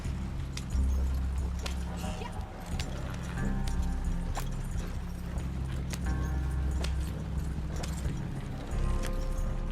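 Steady clip-clopping hooves of a horse at a trot in Red Dead Redemption 2, close and continuous, over a low rumbling background with occasional clinks.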